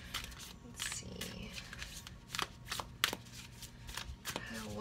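Oracle cards being shuffled during a card reading, with soft riffling and a few sharper snaps of the deck, quiet and close and heard alone.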